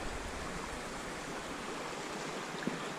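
Water flowing close by in a quiet outdoor spot, a steady broadband rush with no pauses and a single faint knock near the end.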